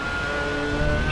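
Race car engine in GRID Autosport at high revs, a steady droning whine held near and loud for about a second with slight rising strain, no talk over it.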